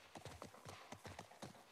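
Horse hooves clip-clop in The Last of Us Part I, a quick, even series of hard clops repeating about five times per second, close and moderately loud with no talk over them.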